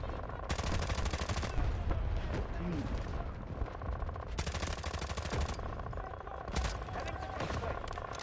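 Bursts of automatic Mk18 rifle fire in the video game Delta Force, rapid dense volleys with short pauses, loud and continuous, with a voice talking over them.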